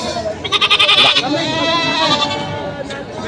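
Goats at a livestock market in Padre Garcia, Batangas, with a series of rapid, loud bleats early on, then ongoing crowd chatter and someone talking nearby.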